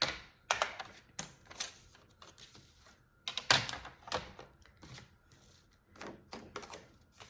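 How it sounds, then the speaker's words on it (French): Card stock being scored and folded on a paper trimmer gives a series of close, dry taps, clicks and scrapes in an irregular rhythm, with no talking. "on va commencer par plier notre base à l'aide de notre"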